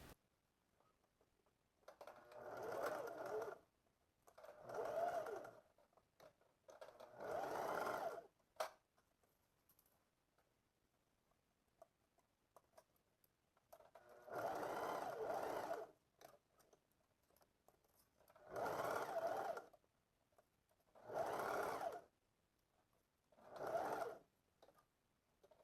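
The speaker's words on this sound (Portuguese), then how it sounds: "agora vou costurar o entrepernas" A sewing machine stitches the inseam of elastic-waist shorts in seven separate bursts of fast mechanical whirring, each a second or two long, with quiet gaps in between.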